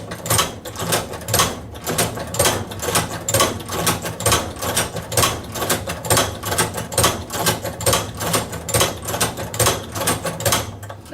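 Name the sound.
hand-operated Cowboy Outlaw leather sewing machine stitching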